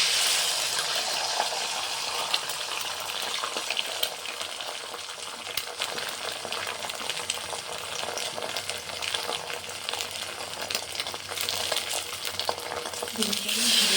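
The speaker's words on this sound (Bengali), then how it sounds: "ডিমটাকে ধীরে ধীরে করে ভেজে নেব।" Beaten egg fries slowly in a pan of hot oil, a steady, fairly quiet hiss and sizzle with faint crackles continuing throughout without pause.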